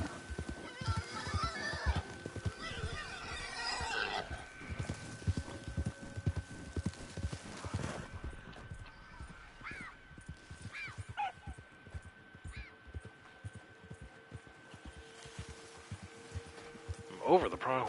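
Horse hooves clip-clop in a steady rhythm through a Red Dead Online game session, with a horse neighing and snorting and occasional game sounds, all fairly faint under someone talking.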